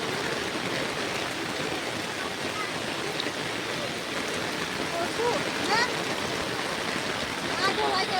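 Water flows steadily in the Kos creek river during ongoing rain, a continuous moderate rushing wash with a few faint bird chirps over it.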